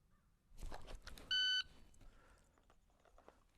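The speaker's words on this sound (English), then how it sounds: "Jump the buzzer on that one." A shot timer buzzer sounds once during a pistol shooting drill, a single loud, steady electronic beep lasting about a third of a second amid quiet range noise and faint movement.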